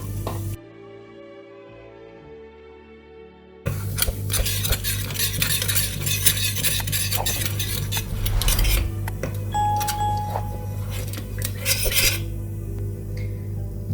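A utensil stirs and scrapes around a metal saucepan of olive oil and red chili powder in steady, close strokes, following a few seconds of quieter kitchen background.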